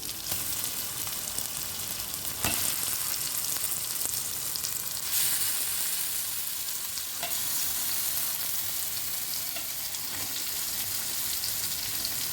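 Pieces of fish fry steadily in oil in a pan for a fish curry, a dense continuous sizzle with occasional sharper crackles and spatter, close and even throughout, with no talking.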